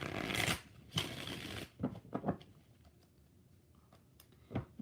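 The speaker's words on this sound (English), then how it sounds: "3 shuffles." Tarot cards being shuffled by hand, a few loud riffling bursts near the start followed by softer card slaps and taps, close and without talk.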